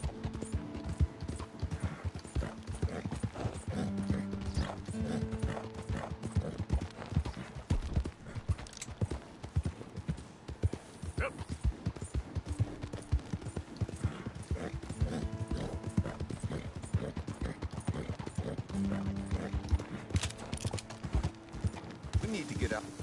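Rhythmic clip-clop of horse hooves on a hard surface in the video game Red Dead Redemption 2, near and steady, with an occasional whinny and people talking over it.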